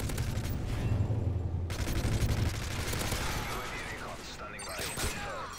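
Shotgun blasts and rapid gunfire ring out in a first-person shooter video game, a dense fusillade of bursts and booms with game mechanisms clattering, while a player talks over the action.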